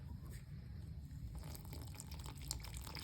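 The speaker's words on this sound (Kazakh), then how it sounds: "Енді осыған су құямын" Water poured into a spooned mixture in a home kitchen, a steady wet pouring and trickling that runs throughout, close by and moderately quiet, brightening partway through.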